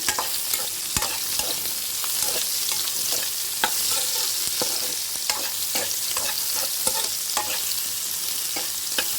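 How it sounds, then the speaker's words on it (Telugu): Steady frying sizzle with repeated scraping clicks of a spoon stirring in a pan, close and continuous, no voices. "మరొక 2 నిమిషాలు వేయించుకోవాలి"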